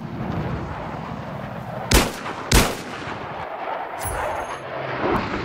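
Video game gunfire and explosions: two sharp, loud shots or blasts about half a second apart over a low rumbling background, followed by fainter distant bangs.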